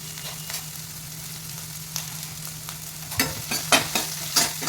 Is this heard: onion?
yes